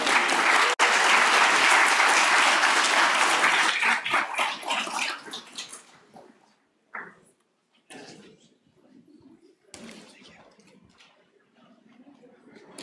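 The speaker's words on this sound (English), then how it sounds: "Let's give them another round of applause." An audience gives a panel a loud round of applause that fades out after about six seconds, leaving scattered faint claps, soft movement and quiet room sounds.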